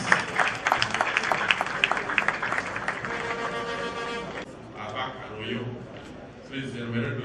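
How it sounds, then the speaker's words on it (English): Applause from a crowd at a community gathering with a governor, a dense patter of clapping for several seconds that thins out, with voices and talk taking over toward the end. "Let's give His Excellency a big round of applause."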